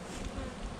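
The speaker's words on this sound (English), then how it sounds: "They have a lot of bees." Honey bees at a beehive fill the air with a dense, steady buzzing drone, close and continuous, with no talking.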